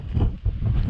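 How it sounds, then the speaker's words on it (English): Strong wind buffets the microphone on the summit of Hedgehope Hill in the Cheviots, a continuous low roar gusting slightly without pause. "It's certainly pretty windy on the top,"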